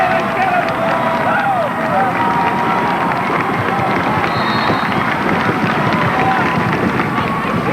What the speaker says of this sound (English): The crowd going wild here at Torrey Pines High.